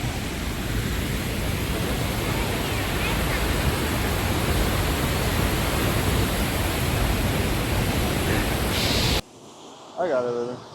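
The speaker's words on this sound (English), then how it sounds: "I don't really know what else to show you here other than this insane waterfall that I cannot get into" Powerful waterfall at La Fortuna roars as a dense, steady broadband rush, close and loud for about nine seconds, then cuts to a quieter moment with a brief voice at the end.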